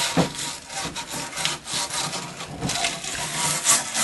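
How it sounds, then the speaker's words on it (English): A wire brush rubs back and forth over a rusty cast iron pan, giving loud, close, rhythmic scratchy strokes in quick succession. "We're going to take a wire brush and just lightly rub it to make sure that everything comes off."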